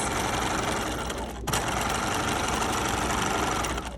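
Sewing machine running long basting stitches for a gathering row along a 5/8 inch seam, a steady rapid mechanical whir. It briefly pauses around a second and a half in, then resumes and runs evenly to the end.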